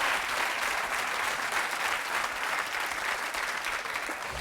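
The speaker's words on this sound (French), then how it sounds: "je voudrais qu'on applaudisse fort Céline" Studio audience of a French TV game show breaks into loud, steady applause, a dense continuous wash of clapping that holds for several seconds without a break.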